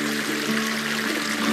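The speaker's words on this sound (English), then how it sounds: "You'll hear the water and everything melting." Meltwater from snow trickles and rushes along a mountain trail near Iceberg Lake in Glacier National Park early in the season, a dense, continuous splashing wash that is close and fairly loud, with no voices.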